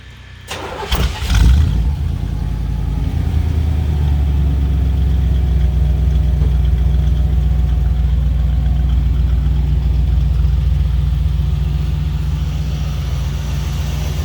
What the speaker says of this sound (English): You fire it up and open the hood?